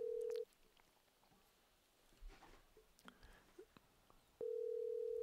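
A telephone tone while placing a call, a steady continuous tone that stops, leaves a few seconds of faint clicks and light shuffling, then returns just as loud.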